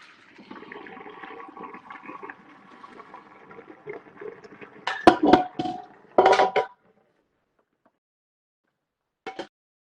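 Pasta lifted out of a pot of boiling water, with a bubbling, sloshing simmer followed by a few sharp metallic clatters of utensil against pot, close by, then quiet with one last clink.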